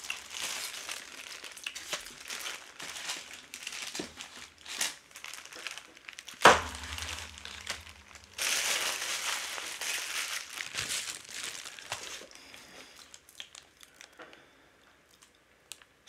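Paper and assorted contents inside a mail envelope crinkle and rustle close by in irregular bursts, with a sharp crackle partway through and a louder stretch of handling before fading toward the end.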